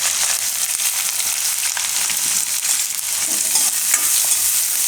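Chopped onion frying in hot oil with mustard seeds, curry leaves and chilies for a Gujarati green-chickpea poha: a steady, close, dense sizzle with light stirring scrapes throughout, no talking.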